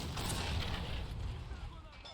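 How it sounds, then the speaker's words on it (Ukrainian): A gunshot fired at an anti-tank gun in the WWII strategy game Men of War, heard as a faint, rumbling blast with a decaying tail at low volume. "постріл по гарматі"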